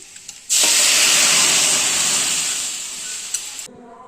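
Onion, chilli and cumin dropped into hot oil to temper dal: a loud, sudden burst of sizzling hiss that holds steady for about three seconds, fading slightly before cutting off.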